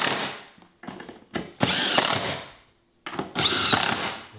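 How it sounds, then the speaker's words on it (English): A cordless impact driver assembling a Yard Star spreader whirs and rattles in short bursts, with several quick pulses followed by two longer hammering runs separated by brief pauses, loud and close, with no talk. "if you have an impact, it makes the job much quicker."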